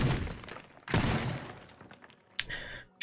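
Shotgun blasts in Teardown: two loud, sharp booms about a second apart, each trailing off into a rumbling decay, followed by a fainter crack and then a sudden sharp hit at the very end.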